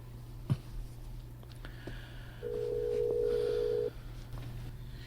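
A telephone line during a call gives one steady, sustained electronic tone lasting about a second and a half, clear over a low background hum, with a brief click just before it.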